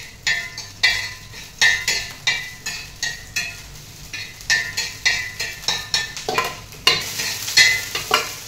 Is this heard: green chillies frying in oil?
yes